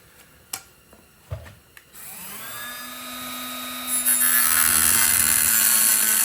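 Power saw cutting sheet metal for a Jeep CJ5 rust repair panel: a few sharp taps, then a rising motor whine that turns into a loud, sustained grinding cut nearby.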